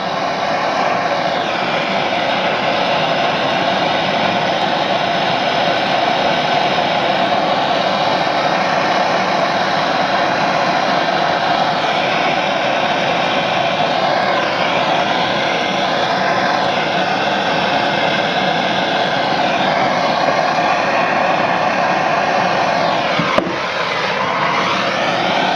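A torch roars steadily while heating a brass Moen pressure-balancing shower and tub valve, a loud continuous hiss that holds unbroken for about 23 seconds, then shifts briefly near the end.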